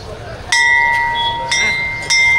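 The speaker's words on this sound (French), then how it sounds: "Les gens sonnent tous la cloche en passant." A temple bell at Annapurna Temple in Kathmandu, rung by passers-by, strikes three times with bright, sustained ringing tones that linger over a low murmur of street noise.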